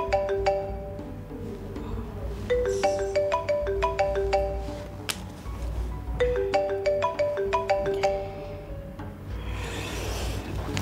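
A telephone rings unanswered in a French action drama, its ringtone repeating a bright melodic tune in two long phrases over a low background hum, with no one speaking.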